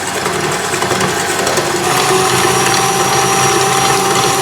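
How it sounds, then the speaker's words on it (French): An electric mixer whisks eggs and sugar for a strawberry cake batter, giving a loud, steady mechanical whirring with a grinding rattle that runs unbroken throughout, close and without voices. "on fouette jusqu'à ce que le mélange double de volume"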